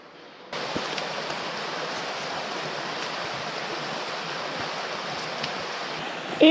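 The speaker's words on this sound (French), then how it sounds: "la Daronne n'est autre que ce ruisseau" A stream rushes through the Daronne gorge in the Ardèche, a steady, dense wash of flowing water that holds at an even level with no talk.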